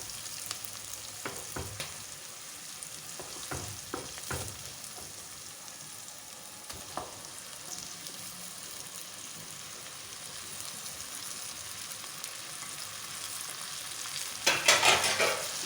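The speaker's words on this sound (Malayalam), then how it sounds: "നല്ലതുപോലെ നമുക്ക് മിക്സ് ചെയ്ത് യോജിപ്പിച്ചെടുക്കാം." Cooked elephant foot yam stir-fried in a pan with onions and garam masala gives a quiet, steady sizzle, broken by scattered scraping stirs and a louder clatter near the end.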